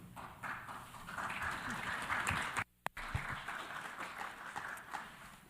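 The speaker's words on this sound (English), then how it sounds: "I think the applause were well deserved" Sustained applause fills a plenary meeting hall of a UN commission session, a dense steady wash of many hands clapping that breaks off abruptly for a moment, then resumes at similar strength.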